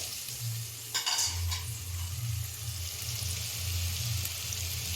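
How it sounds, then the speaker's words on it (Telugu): Ginger and onions fry gently in a pan for a sprouts curry, giving a soft, steady sizzle with a couple of brief clinks from stirring and a low background hum. "ఇప్పుడైతే కొంచెం అల్లం వేస్తున్నా ఇది పచ్చి వాసన పోయేంతసేపు ఫ్రై చేయాలి"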